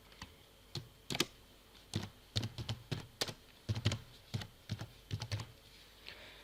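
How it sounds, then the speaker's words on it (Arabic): Typing on a computer keyboard: sparse, irregular clusters of crisp key clicks close by, soft and quiet with short pauses between bursts and no speech. "نيجي هنا مثلا نكتب مثلا على سبيل المثال خالد المصري."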